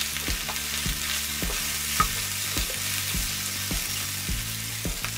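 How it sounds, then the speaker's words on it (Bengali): Onions browning with turmeric in a pan are stirred with a utensil, giving a regular series of scraping strokes about twice a second over a soft continuous sizzle, close and clear with no talking. "তখন আমি হলুদ দিয়ে আবারও নাড়াচাড়া করে"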